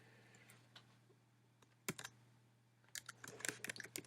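Keys clack on a computer keyboard, a few isolated taps early on, then a quicker run of close, light keystrokes toward the end over a quiet room hum.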